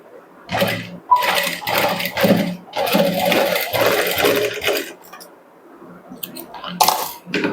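A sewing machine stitches the side seams of a blouse in several short, close bursts of rapid needle clatter, separated by brief stops and a longer pause near the end.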